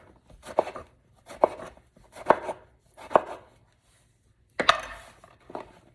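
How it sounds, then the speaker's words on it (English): A knife chops vegetables on a board into thick strips and chunks, six distinct, evenly spaced chops with a short pause before the last two, close and fairly crisp, with no talk. "Now we're gonna cut it in nice and thick strips, like this, and we'll cut the chunks."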